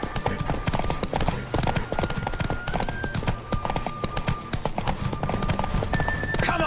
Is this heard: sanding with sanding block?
no